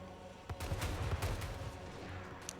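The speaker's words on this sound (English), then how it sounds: "That's basically a grenade launcher on this thing." Grenade launcher fire from a Chaos Dwarf gunpowder unit in the Total War: Warhammer game, modded: a few sharp explosive blasts in quick succession over a constant low battle rumble, fairly distant and mixed.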